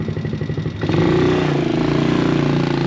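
A CFMOTO C-Force 110cc youth ATV pulls away: a throbbing small engine idles close by, then revs up into a steady buzzing drone as it rides off.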